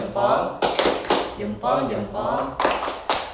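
A group performs the tepuk salut clapping routine at a public speaking mentor training, several sharp rhythmic bursts of clapping in quick succession with voices chanting along.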